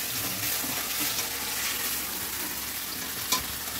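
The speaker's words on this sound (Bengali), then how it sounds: "দেখো বন্ধুরা আমাকেই নাড়তে হচ্ছে, আমি ভিডিও করছি, আমাকেই নাড়তে হচ্ছে" Spices fry and are stirred in a pan, giving a dense, close hiss of sizzling with scraping movements and a brief clatter near the end.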